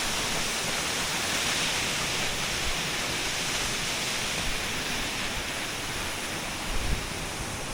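A waterfall on Mount Rinjani, Lombok, roars in a constant, dense broadband rush that stays steady and close throughout, with no voices.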